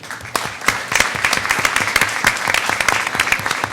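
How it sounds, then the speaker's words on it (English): A small audience at a school board of education meeting claps for state-qualifying students, a sparse, close round of individual hand claps with distinct separate slaps. "round of applause for them."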